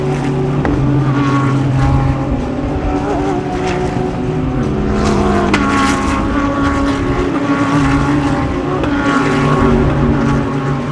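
GT World Challenge race cars at the Misano circuit roar past one after another, their engines loud and close, rising and falling in pitch with each pass.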